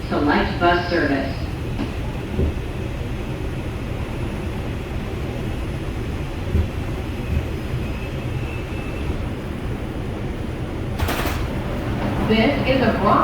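An NYC Subway R142 car on the 5 express rumbles along the track out of 86th Street, a steady low roar with rattling and wheel noise, a brief high squeal near the end.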